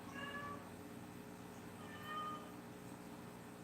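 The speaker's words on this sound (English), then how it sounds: "There's meowing. My cat Emo's outside the door." A house cat meows from outside a closed door, two faint, drawn-out cries a couple of seconds apart over a quiet room hum.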